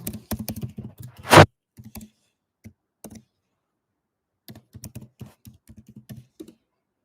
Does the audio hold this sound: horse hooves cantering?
no